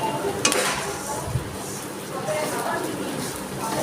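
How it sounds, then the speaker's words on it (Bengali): Mung dal frying in oil in a wok, a steady soft sizzle and scraping stir with a few light clinks of the spatula against the pan. "দেখুন এইভাবে আমি ডালটা একটু লাল লাল করে ভেজে নিলাম"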